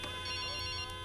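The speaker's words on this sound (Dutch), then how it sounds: "Telefoon." A phone rings in the video game Sleeping Dogs, a steady electronic ringtone with layered tones and a couple of brief pulses, faint and continuous over a low background hum.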